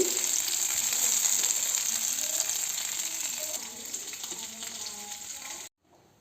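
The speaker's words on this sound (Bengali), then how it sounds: "সরপুটি রান্না করব আজ কেটে নিয়েছি সরপুটি মাছ ভাজি করছি" Sarputi fish sizzles and fries in hot oil, a loud, continuous crackling hiss that ends abruptly near the close.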